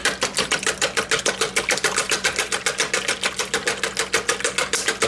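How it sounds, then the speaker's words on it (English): Four eggs are whisked briskly in a bowl, a fast, even, loud rhythmic clatter of the whisk against the bowl that runs steadily with no speech. "I'm going to add my 4 eggs. I'm just going to whisk these up."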